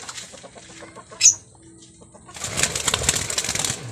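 Frightened pet bird clucking and squawking, a few soft clucks, one sharp cry, then a longer bout of rustling and fluttering wings inside its cage, fairly close.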